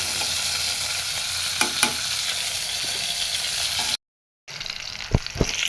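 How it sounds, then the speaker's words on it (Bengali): Pumpkin pieces fry in hot oil with a steady, loud sizzle and a few stirring clinks, a brief gap, then the sizzle resumes with knocks of a utensil against the pan. "এবার মিষ্টি কুমড়োগুলো দিয়ে দিলাম। মিষ্টি কুমড়োগুলো ভাজা করে নিব"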